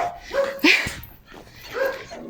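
Small neighbourhood dogs barking outdoors during a walk, a few sharp yaps and whimpery barks spread across the moment, moderately close, with faint ambient noise between them.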